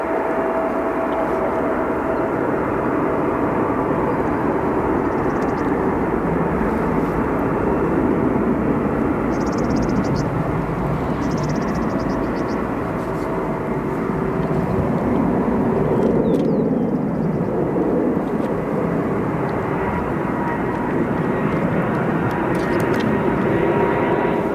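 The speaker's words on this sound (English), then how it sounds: "Arrival Air Canada jets arriving from Vancouver" Air Canada jets arrive from Vancouver at Chicago O'Hare airport. A loud, continuous engine roar runs the whole time and swells as one plane passes close by.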